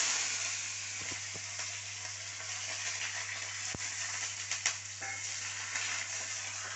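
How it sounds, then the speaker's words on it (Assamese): Paste of ground tomato and potato peel frying in a pan with onion, dried chilli and nigella seeds: steady, dense sizzling throughout, with occasional stirring scrapes and a low hum underneath, no talking. "মই এইটো ফ্ৰাই কৰি লৈছোঁ"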